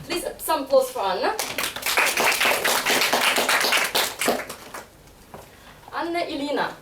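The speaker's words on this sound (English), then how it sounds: "some applause for Anna" Steady applause from a crowd swells for several seconds, with a voice speaking briefly before and after the clapping.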